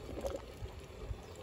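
An aquaponics bell siphon flushing water from a lettuce grow bed, a close, steady gurgling pour and trickle with soft bubbling surges throughout.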